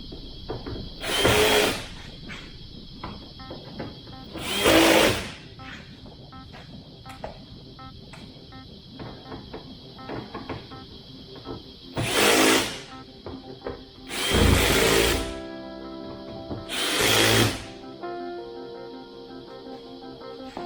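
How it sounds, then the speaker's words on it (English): Electric screwdriver set to its lowest torque driving screws into an aircraft cowl during a 100-hour inspection, five short whirring bursts separated by quieter gaps with a steady background hum. "After I've gone over it with the electric screwdriver, which I have set on my lowest torque setting"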